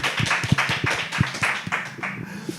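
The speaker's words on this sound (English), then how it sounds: "round of applause" A small group claps at an Indonesian blockchain meetup, a short run of distinct, uneven hand claps close by that thins out toward the end.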